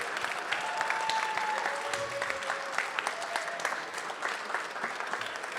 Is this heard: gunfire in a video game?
no